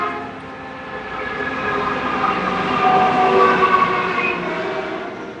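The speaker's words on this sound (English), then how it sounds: "Let's pause for the train whistle." A train passes nearby with its whistle sounding, sustained horn tones held over the rumble and clatter of rail cars, swelling louder toward the middle and continuing steadily with no talk.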